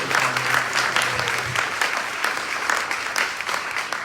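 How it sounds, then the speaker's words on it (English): Audience at a community event on foster care and education after the Eaton Fire gives a round of applause: dense, steady clapping throughout, fairly close, with no talk over it. "Can we give another round of applause?"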